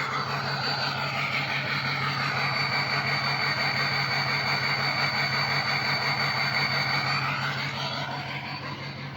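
A 6.0 diesel engine idles roughly, with a loud, close, continuous rumble carrying a choppy, uneven pulse that eases slightly toward the end.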